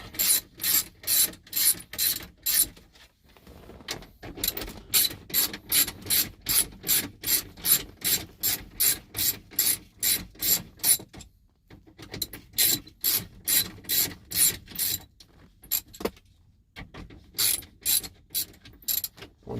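A ratchet wrench backs out 7mm bolts during an aftermarket Phoenix Android head unit install in a car dash, clicking in fast, even bursts with a few short pauses, close and alone.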